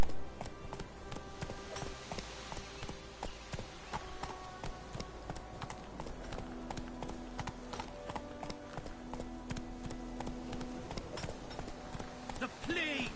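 A horse ridden in The Witcher 3 clip-clops in a brisk, steady rhythm, hooves close and distinct throughout, under a layer of game music and occasional talk.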